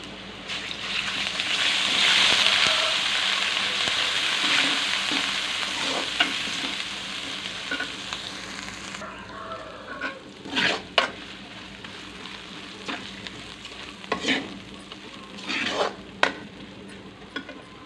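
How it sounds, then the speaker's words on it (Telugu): Ginger paste fries in oil in a pan, a steady close sizzle with spoon stirring scrapes; the sizzle is loudest early, then settles into quieter frying broken by several sharp stirring clatters. "పచ్చి వాసన పోయేంత వరకు మంచి ఫ్రై చేసుకోవాలి."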